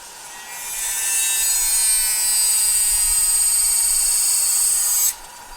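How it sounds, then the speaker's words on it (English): A Dremel rotary tool whines steadily at high speed while cutting through a motorcycle control cable, a continuous loud buzzing tone that starts after a brief pause and stops abruptly near the end. "So I use my Dremel."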